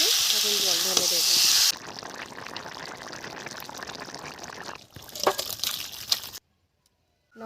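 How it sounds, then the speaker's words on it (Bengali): Water poured into fried spices for a village-style jackfruit curry: a loud frying hiss gives way to bubbling, sputtering sizzle with splashes, ending in a sudden silence. "মশলা কষা হয়ে গেছে, এখন জল ঢেলে দেবো।"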